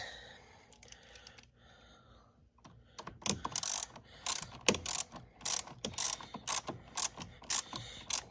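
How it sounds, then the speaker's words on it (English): Ratchet wrench clicking in quick bursts while tightening the battery terminal clamp on a 2019 Mazda CX-5 GT during a remote start install, close and crisp after a quieter stretch of faint handling noise. "that tightened down nice and tight on the battery terminal"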